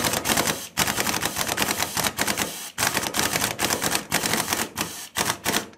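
A pulley puller working a pulley off a Sears tractor gives a loud, dense mechanical clatter, like rapid ratcheting. It runs almost continuously for several seconds, broken by a few short pauses, with no voices.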